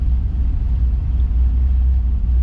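A C4 Corvette engine runs hard with a deep, steady, loud rumble that holds an even drone without a clear rise in pitch.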